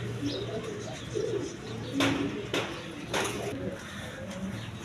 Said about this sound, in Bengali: এইখানে এক পেয়ার চররা কবুতর আছে স্প্যানিশ চররা কবুতর